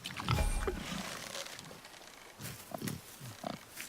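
Wild boar in God of War grunts and snorts in a few loud, low bursts near the start, followed by softer intermittent grunts under faint game ambience.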